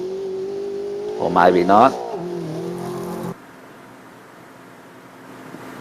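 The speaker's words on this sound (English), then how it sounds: "Four-wheel drive vehicle. Flat four-cylinder, I think." A four-wheel-drive flat-four rally car accelerates hard at a rally sprint, its engine note surging loud and rising for a couple of seconds before cutting off abruptly, with a voice speaking briefly.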